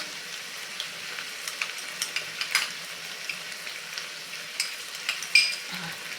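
Masala sizzles softly in a pan as it is stirred into partly cooked tomatoes for paneer butter masala. A quiet steady fry runs under repeated light scraping clicks of a spoon against the pan.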